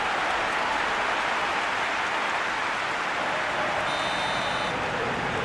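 Stadium crowd in a football video game, a dense continuous roar of cheering and noise that holds steady throughout, with a faint high whistle-like tone near the end.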